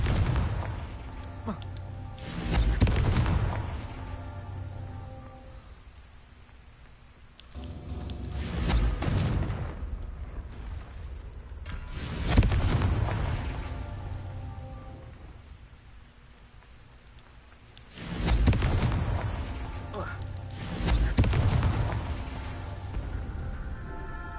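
Blasting-spell explosions from the video game Hogwarts Legacy: a series of heavy booming blasts, about five in all, each swelling and rumbling away into a low roar, with quieter gaps between them.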